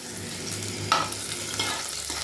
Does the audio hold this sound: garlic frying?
yes